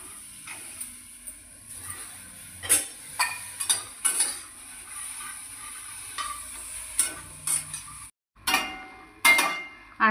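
Spiny gourd (kantola) dry-roasts in a pan without oil, with a faint low sizzle beneath frequent clinking, scraping stir strokes from a utensil against the pan, close by.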